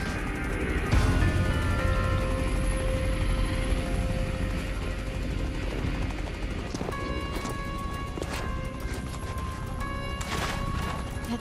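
A helicopter in the video game InFamous First Light, a loud, dense rotor roar filling the whole stretch with crashing impacts and effects layered over it, no voices.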